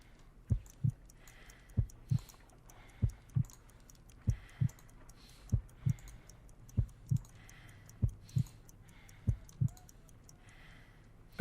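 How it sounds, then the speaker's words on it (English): Heartbeat in the Sherlock Holmes: Crimes and Punishments video game, a slow, steady lub-dub pulse of soft low thumps repeating about every 1.3 seconds, alone over a quiet background. "I need to concentrate and count the heartbeats."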